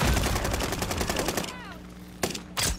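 Rapid automatic gunfire bursts loud and close in a video game, then stops, with someone talking briefly before another short burst of shots.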